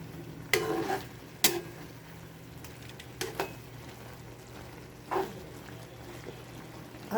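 Laing, a taro-leaf dish in coconut milk, stirred in a pot, giving a few separate scraping clinks against a low steady background.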